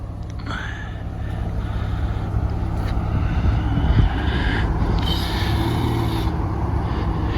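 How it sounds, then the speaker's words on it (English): A 2020 Toyota Camry TRD pulls away from a standstill in sport mode, a steady engine drone rising slightly as it launches, heard from close by with some wind noise and a brief squeak near the start. "He's gonna put it in sport mode so we can get an idea of how quick it gets off the line."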